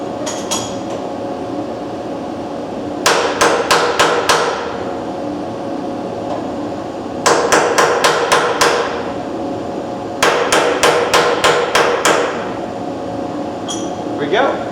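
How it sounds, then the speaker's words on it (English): Mallet blows fall in quick bursts of five or six sharp, ringing strikes, repeated three times, as a part is tightened down and lined up on a Haas machine setup; a steady machine-shop hum runs underneath. "and using the mallet"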